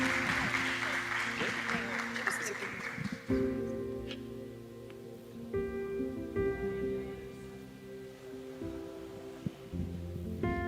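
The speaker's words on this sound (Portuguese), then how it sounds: "Receba ela com uma salva de palmas do Senhor." Congregation clapping in a church service, a burst of applause that fades after a few seconds into sustained keyboard or organ-like tones, with voices mixed in underneath.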